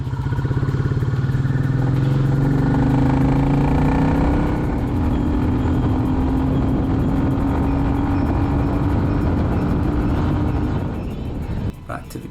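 A Royal Enfield Classic 350 motorcycle pulling hard in third gear around a coastal road corner, its single-cylinder engine thumping loud and close with rising pitch as it accelerates, easing off near the end.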